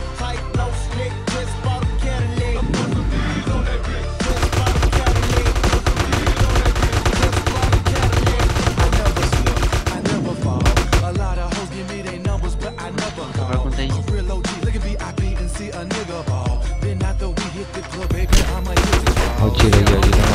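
Dense, loud bursts of rapid gunfire and explosions in GTA San Andreas Multiplayer keep up without letting up, with sharp cracks layered over a busy, crowded din.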